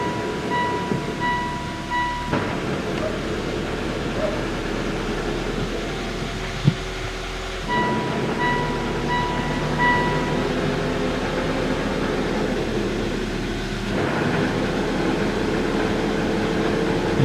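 A 2012 Mitsubishi Lancer X with a worn wheel hub bearing gives a steady droning rumble and whir, rising and falling in intensity with a couple of brief knocks, heard alone with no talk.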